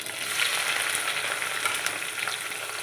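Spices, dried and green chillies and thinly sliced onions frying in ghee in a pan for chicken curry, a steady close sizzle with soft crackles throughout, no talk.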